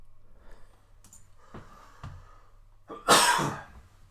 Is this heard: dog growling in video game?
no